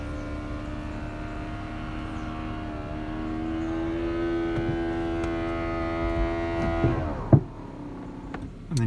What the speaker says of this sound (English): the roof operates perfectly on the button